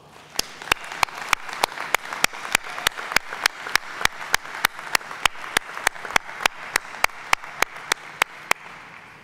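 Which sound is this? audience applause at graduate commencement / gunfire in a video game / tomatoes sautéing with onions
audience applause at graduate commencement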